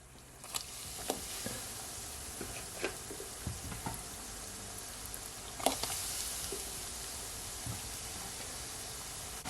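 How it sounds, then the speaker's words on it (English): Chicken nuggets frying in hot oil give a soft, continuous sizzle, broken by scattered pops and crackles, quiet and alone. "So now I'm gonna fry my chicken nuggets"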